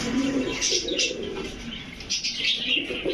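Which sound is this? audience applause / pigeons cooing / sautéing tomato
pigeons cooing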